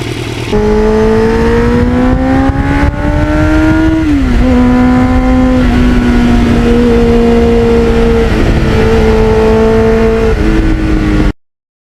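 A 33-year-old Kawasaki Ninja motorcycle rides along a residential street, its engine droning loudly and steadily close up, pitch climbing with acceleration, dipping at a shift, then holding a steady cruise before cutting off.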